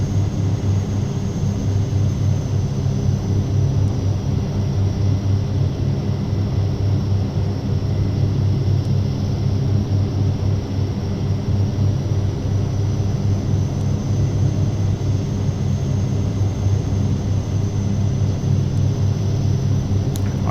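Carenado Shorts 360 propeller airplane on approach in a flight simulator, a steady droning engine rumble with low harmonic tones held at constant loudness throughout, no voices.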